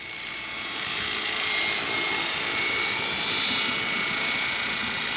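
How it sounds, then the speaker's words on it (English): A Trex 600e RC helicopter running on a governor, its electric motor and rotor giving a steady whine and whoosh that rises and eases slightly as throttle and pitch change, fairly close with no talking. "I can hear the motor picking up and dropping RPMs as I'm throttling up and down with the pitch"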